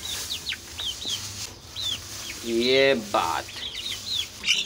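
A white rooster and a brown hen cluck and call in repeated short bursts close by, with one longer squawk, while someone talks briefly over them.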